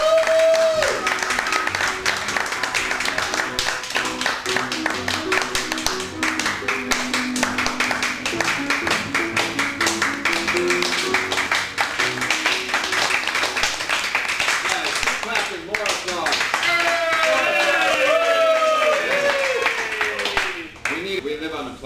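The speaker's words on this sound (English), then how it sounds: "Put your hands together for Fantastic Voyage!" Audience applause and clapping for the Fantastic Voyage improv troupe at a live show, sustained and steady for about twenty seconds, with music and voices mixed in underneath.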